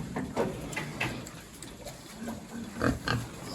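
Pigs grunt and snort repeatedly at close range over a rough, noisy background, with a couple of louder grunts near the end.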